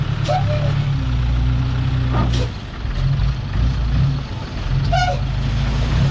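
A souped-up Thai Itaen farm truck with a Nissan 90 hp engine runs nearby with a loud, steady low diesel rumble, a few short squeaks and hisses, and speed that swells and dips slightly.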